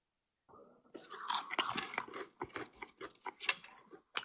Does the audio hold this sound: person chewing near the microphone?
yes